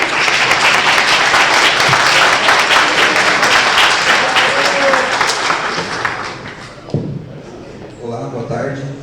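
Loud, dense applause from an audience welcoming a speaker at a tech talk, continuous for several seconds, then tapering with a thump and a voice at the end.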